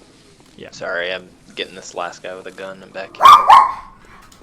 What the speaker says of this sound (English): I apologize if you hear dog noises behind me.